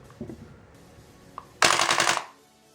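A KWC gas blowback airsoft mini Uzi fires one loud, rapid full-auto burst lasting under a second, close by, after a few faint clicks and handling knocks.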